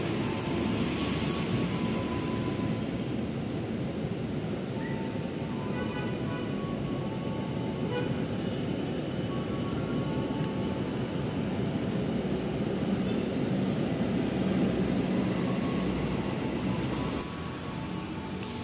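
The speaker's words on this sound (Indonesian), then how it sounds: "lintas langsung jalur 3 kereta api Argo Parahyangan" Argo Parahyangan express train roaring straight through Buaran station at speed, a loud, continuous rumble of wheels on rails with metallic squeal throughout, easing slightly at the very end.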